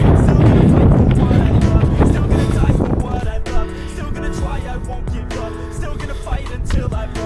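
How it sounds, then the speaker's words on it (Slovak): Strong wind buffets the microphone during an outdoor run, a loud, steady roar that is heaviest for the first three seconds and then eases into gusty rumble with faint tonal sounds behind it. "Ale fúka riadne. Pekne fučí."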